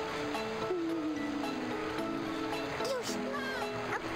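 Water rushes and splashes in the video game Sonic Adventure 2 Battle, a steady surf-like wash running under bright game music with a few small wavering tones.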